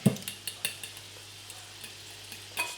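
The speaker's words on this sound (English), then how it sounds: "When you get a fork, you just mix that up like that." A fork whisking pecorino cheese into egg yolk in a bowl, a few light close clicks and scrapes spread irregularly over quiet background.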